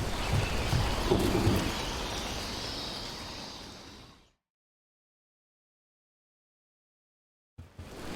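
Rain pours steadily in a thunderstorm in the video game Dragon Age: The Veilguard, with a low thunder rumble in the first few seconds before the sound fades out into silence, then a brief return at the very end.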